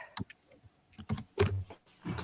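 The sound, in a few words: people typing on computer keyboards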